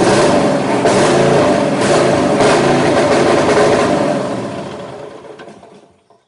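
A Husqvarna engine runs rough with a loud, steady, sputtering drone, then fades and cuts out over the last couple of seconds.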